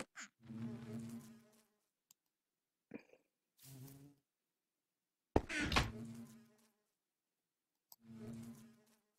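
Buzzing bees in the Minecraft video game come in short separate bursts of droning hum, several brief passes with silent gaps between, fairly close and clear.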